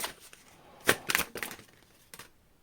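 Tarot cards shuffled by hand during a pick-a-card reading, a few sharp riffling bursts close by with quiet gaps between, no talking.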